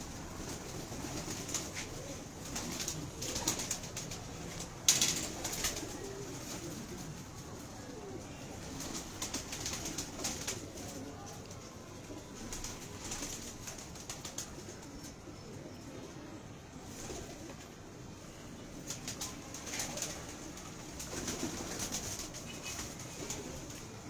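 Pigeons coo softly at a loft in Bakkar Mandi, a low murmuring chorus running steadily with occasional wing flaps and one sharp knock near the start, all at moderate distance.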